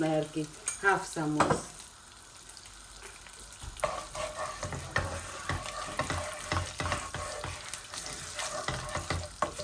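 Bay leaves, cumin and carom seeds fry in hot oil for Bangladeshi tilapia curry, a steady crackling sizzle with sharp spits and pops, plus a few louder bursts of stirring near the start.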